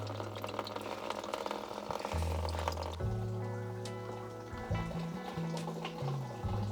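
Coolant draining from a Porsche 928 GT radiator into containers, a steady low trickle and pour with shifting tones and a brief change partway through, fairly quiet and without talk.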